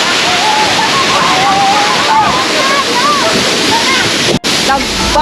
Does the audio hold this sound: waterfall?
yes